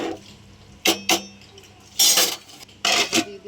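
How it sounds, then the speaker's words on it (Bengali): Rice in a pot for mutton biryani is stirred with a metal utensil, giving several loud, separate scraping and clanking bursts against the pot with short quiet gaps between them. "তো ভাতটা আমরা নেড়ে দিচ্ছি"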